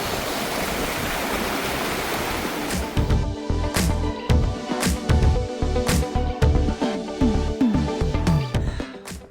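A mountain river rushes near Mana village in the Himalayas, a broad steady roar for a few seconds that then thins out beneath a run of sharp, close knocks and clatters.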